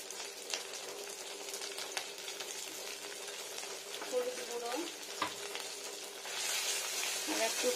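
Moong dal frying with green chillies, salt and turmeric powder in a pan, producing a steady close sizzle with occasional scraping stir strokes, growing a little louder toward the end.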